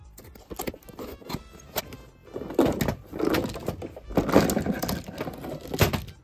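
Tape rips and cardboard rustles as a taped mail package is pried open, giving irregular tearing bursts and thumps, close and moderately loud, with no talk.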